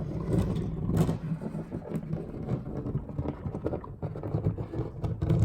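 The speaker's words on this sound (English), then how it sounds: "You can hear the wheels dragging." Small wheels of a 1/64 scale custom Peterbilt 379 toy truck drag and scrape along a surface, a continuous close rumbling whir with uneven bumps throughout.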